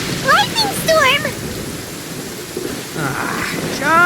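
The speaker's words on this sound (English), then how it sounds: "Uh-oh! Lightning storm!" Thunder rumbles through steady rain during a lightning storm in the video game Genshin Impact, with brief vocal-like sounds early on and a swell of noise near the end.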